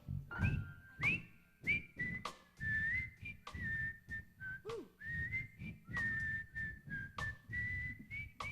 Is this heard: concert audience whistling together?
yes